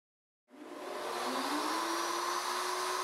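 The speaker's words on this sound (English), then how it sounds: "route in each opening of the template, making sure the guide bushing stays in contact with all guide surfaces." A router cuts box joints in 3/4-inch stock on a Leigh RTJ400 jig, its guide bushing following the template. After half a second of silence, a loud, steady, close motor whine starts and climbs slightly in pitch as it runs on.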